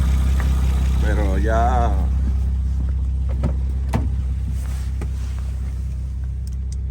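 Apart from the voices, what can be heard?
Honda Odyssey engine loud through hole in muffler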